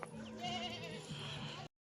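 A goat tied beneath an old tamarind tree near a Sundarbans village market gives one drawn-out, wavering bleat, close and clear, lasting under two seconds.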